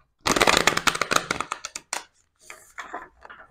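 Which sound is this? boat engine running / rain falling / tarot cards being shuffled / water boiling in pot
tarot cards being shuffled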